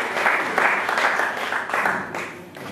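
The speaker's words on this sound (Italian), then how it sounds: "Accogliamolo con un applauso." An audience at a poetry award event welcomes a poet with applause, several loose swells of clapping rising and falling in waves and fading toward the end.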